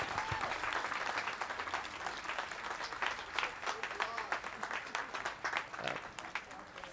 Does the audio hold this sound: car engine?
no